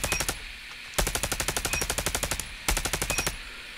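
Dingo LMG in Call of Duty Mobile fires three rapid sustained bursts of rhythmic automatic shots, loud and close, separated by short pauses.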